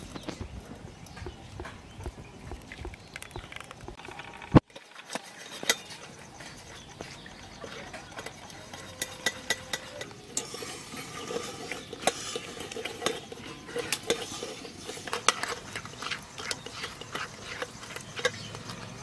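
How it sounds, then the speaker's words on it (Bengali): Ground mustard paste is strained through a sieve in a home kitchen, with quick rhythmic tapping and metal utensils clinking and scraping close by, one sharp knock standing out early on. "এবার একটু ছেঁকে নেবো।"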